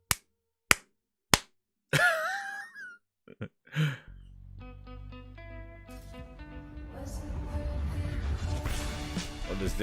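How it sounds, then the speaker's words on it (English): Three slow, sharp, isolated hand claps ring out one by one in a sarcastic golf clap, followed by a voice and then music. "Golf clap."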